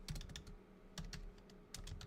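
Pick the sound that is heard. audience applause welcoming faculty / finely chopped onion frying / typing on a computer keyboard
typing on a computer keyboard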